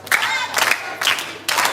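An audience at a 4-H Club national primary-school public speaking competition in Dominica claps in a short rhythmic pattern, with four sharp loud bursts evenly spaced and close together.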